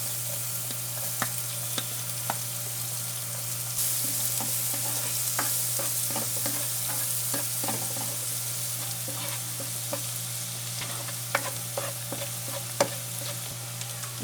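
Garlic sautés in melted butter in a pan for chicken lomi. A steady, close frying hiss carries scattered crackles and pops, with a low hum behind it.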